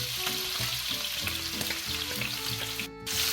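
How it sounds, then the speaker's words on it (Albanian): Beef and chopped onion fry in a pan for pilaf, with a loud, constant close-up sizzle, occasional stirring scrapes and a brief dip near the end. "Pasi kemi skuqur mishin,"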